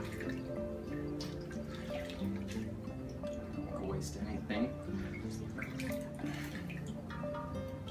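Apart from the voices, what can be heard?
water dripping from kale being wrung out by hand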